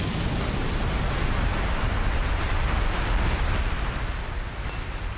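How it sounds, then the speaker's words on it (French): A loud, sustained explosion from a lion-themed special attack in a Beyblade anime battle, a dense roaring blast that holds steady for several seconds before easing slightly, with a brief high ring near the end. "Explosion dévastatrice de lion!"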